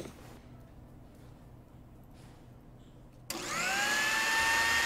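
Blender in the cooking game Chef Life kicks on abruptly partway through, a loud steady whirring whine with rising pitch, after a quiet stretch of faint background hum.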